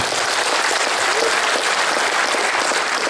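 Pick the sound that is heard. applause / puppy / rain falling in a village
applause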